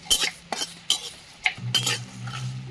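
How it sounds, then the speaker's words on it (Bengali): Whole spices—coriander, fennel, panch phoron, cumin, dried chillies and bay leaf—dry-roasted and stirred in a pan, with several distinct scraping clinks of a metal spoon against the pan followed by a low, faint hum. "এবার এই মশলাটা ভেজে নেব"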